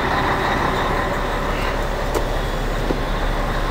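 A turbocharged Scania 113 truck engine runs steadily with a loud, continuous rumble and roar that stays constant throughout.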